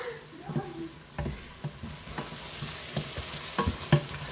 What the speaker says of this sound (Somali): carrot yar shiilay